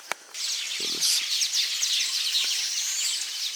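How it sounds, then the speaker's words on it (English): Weaver birds call in Uganda, a dense chorus of high chattering chirps that carries on without a break, with a few faint knocks and thumps underneath. "We love a good weaver bird,"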